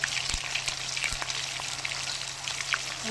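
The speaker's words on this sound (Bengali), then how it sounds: "কত সুন্দর মাছ ভাজা" Fish pieces frying in hot oil crackle and sizzle steadily and close up, with a couple of sharp spits and pops standing out from the dense hiss; no one speaks.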